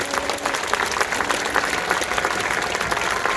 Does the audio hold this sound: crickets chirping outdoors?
no